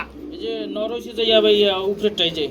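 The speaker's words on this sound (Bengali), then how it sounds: "এই যে বন্ধুরা দেখতে পাচ্ছেন চিলা কবুতর রয়েছে আন্ডার মধ্যে তা দিচ্ছে" Soft, throaty cooing from a pigeon sitting on eggs repeats in low rolling phrases close by, with a person talking over it.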